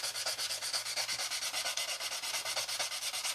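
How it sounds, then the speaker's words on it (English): A sanding stick rubs back and forth across a 1/48 scale Eduard SU-25 plastic model kit part, a fast even rasping rhythm of short strokes, close and steady with no talk. "Then we're just going to work our way through the sanding sticks."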